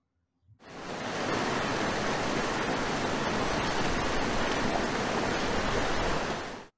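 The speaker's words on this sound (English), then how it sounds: "The sound of water flowing through the valley is always beautiful." Steady rushing water in a Korean mountain valley, a broad continuous roar like a stream tumbling over rocks, loud and close, starting abruptly and holding evenly throughout.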